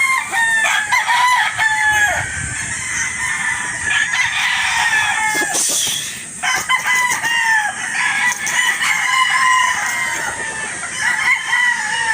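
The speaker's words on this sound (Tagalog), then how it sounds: "Pure Boston Roundhead din po ito" A purebred Boston Roundhead gamefowl rooster crows repeatedly at close range, its calls loud and ringing over steady farmyard clucking from other fowl, with no talk.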